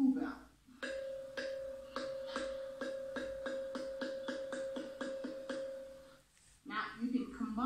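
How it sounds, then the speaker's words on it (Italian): A Vittala temple stone pillar rings like a small school bell, a rapid even run of metallic-sounding taps over a sustained ringing tone lasting about five seconds, with brief speech just before and after. "E questo di una campanella tipo quella della scuola."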